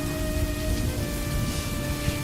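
Steady rain heard while driving in the southern US, a dense continuous hiss of falling water layered over a low rumble and faint steady hum, with no talking.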